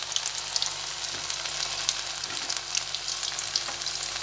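Pieces of meat fry in a hot pan with a constant close crackling sizzle, small spits and pops scattered through it.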